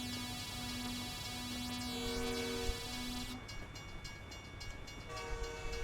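Loud sustained truck air horn in American Truck Simulator, steady tonal blasts layered over engine hum, with pitch shifting and a second horn tone joining partway through.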